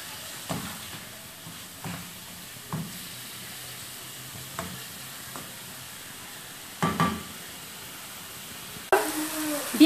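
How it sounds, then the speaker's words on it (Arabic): Chicken breast frying in a pan with a vegetable filling for potato rolls: a quiet, steady sizzle broken by regular scrapes and knocks of stirring, with a louder clatter near the end. "نضيف إليها صدر الدجاج ليتشحر معها ونختصر الوقت"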